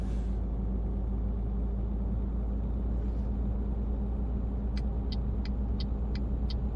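Simulated heavy truck engine in Euro Truck Simulator 2 pulling back up to road speed, a steady low droning rumble with a short run of faint high clicks near the end.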